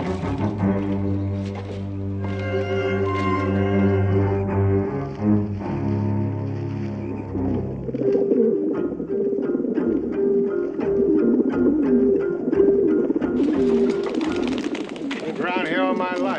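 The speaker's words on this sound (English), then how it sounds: "Never saw a single pigeon before." Pigeons coo in low, throaty rolling calls that repeat under a dramatic musical score with a deep, horn-like drone, while voices speak over the mix.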